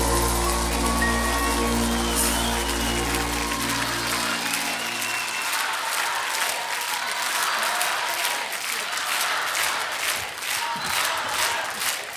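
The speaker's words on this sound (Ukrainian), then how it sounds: "Ваші оплески" An audience bursts into loud, sustained applause as a song fades out at a concert, the final sustained musical notes dying away under dense clapping that fills the hall.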